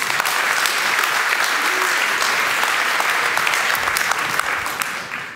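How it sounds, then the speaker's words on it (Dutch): Theatre audience giving loud, sustained applause to welcome two Dutch members of parliament at a performance about youth crime, dense clapping that fades slightly at the end. "ik wil graag een hartelijk applaus voor Songül Mutluer"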